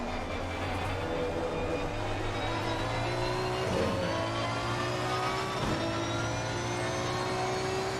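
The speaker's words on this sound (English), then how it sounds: "listening to the sound of that 6-litre V12 as he comes across the line" A 6-litre V12 race car in Assetto Corsa Competizione at Zolder roars steadily on board through a lap, with a sustained loud engine drone and rising pitch sweeps as it accelerates and shifts gears.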